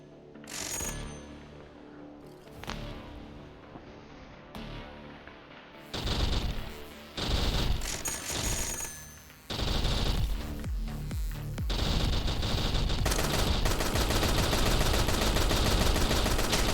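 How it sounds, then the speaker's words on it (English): Video game shield gun fire: a few sharp bursts give way to dense, continuous rapid shooting with mechanical clatter that builds and stays loud to the end. "So that was the shield gun."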